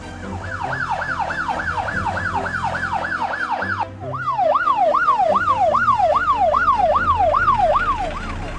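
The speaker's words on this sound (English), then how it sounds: "Classic ambulance." Classic ambulance siren wailing loudly and steadily in a fast rising-and-falling yelp, briefly pausing before resuming slightly louder, with no voices.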